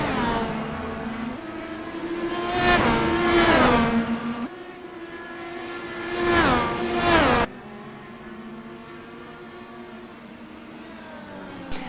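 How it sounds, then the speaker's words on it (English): Race cars in an iRacing event at Watkins Glen scream past side by side, their engines rising and falling in loud revving sweeps with pitch shifts as they pass, then a steadier engine drone continues. "they finished the lap drag racing side-by-side towards turn 1"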